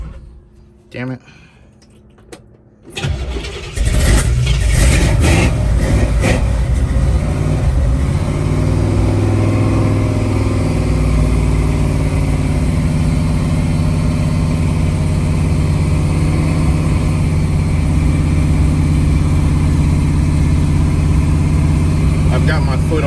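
After a couple of faint knocks, a 1968 Camaro engine fires and runs continuously with light throttle held, giving a loud, even low rumble that stays steady for nearly twenty seconds.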